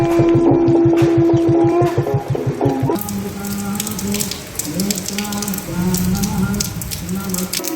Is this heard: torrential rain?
yes